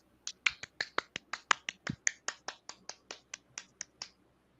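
About sixteen sharp, evenly spaced clapping slaps come in a quick, regular rhythm, faint and close, then stop.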